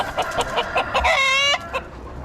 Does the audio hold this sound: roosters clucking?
yes